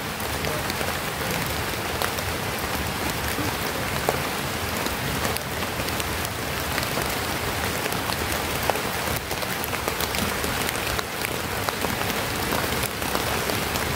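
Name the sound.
heavy rain falling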